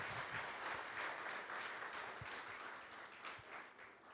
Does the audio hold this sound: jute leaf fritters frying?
no